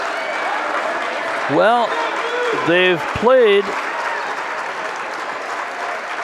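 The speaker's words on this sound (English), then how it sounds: "the St. Croix Falls parents up and cheering" St. Croix Falls parents applaud and cheer during a girls' basketball regional game, a steady crowd roar and clapping in a gym with a commentator's voice briefly over it.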